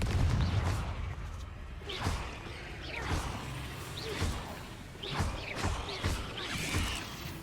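Confringo blasting spell cast in the Hogwarts Legacy video game, several whooshing bursts with low booms spread across the stretch at moderate level.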